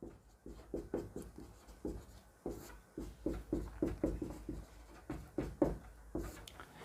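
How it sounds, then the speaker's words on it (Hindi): Chalk or marker writing on a board during a maths lesson, heard as quick, rhythmic scratchy strokes and taps in short bursts, close and fairly soft, with no talking. "यहां लिखता हूं मैं धनात्मक एकाधिका"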